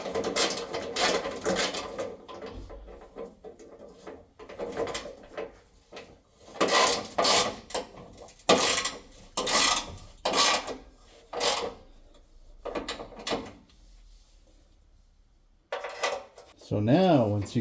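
A ratchet cranks down the transfer case bolts on a 3rd-gen Nissan Frontier, clicking and rattling in repeated bursts with metallic handling between strokes. There is a brief rising whir at the end.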